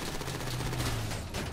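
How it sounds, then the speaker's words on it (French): Rapid gunfire in GTA V during a heist raid on the Humane Labs, a dense continuous volley of shots that fills the whole moment with sustained crackling bursts. "Je tire."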